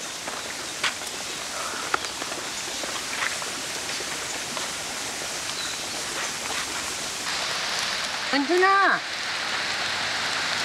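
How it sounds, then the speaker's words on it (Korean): Steady heavy rain patters on surfaces outdoors at a botanical garden, a continuous hiss of large drops, with a voice calling out briefly near the end. "굵은 빗방울이 툭툭 떨어지기 시작합니다"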